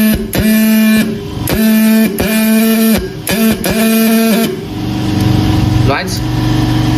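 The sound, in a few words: CY-202 engraving marking machine running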